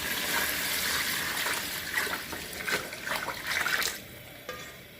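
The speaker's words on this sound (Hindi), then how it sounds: "अब हम लोग इसके अंदर 6 लीटर पानी डाल देंगे" Six litres of water pour steadily into chicken gravy in a cooking pot, a continuous broadband gush and splash that lasts throughout and eases off near the end.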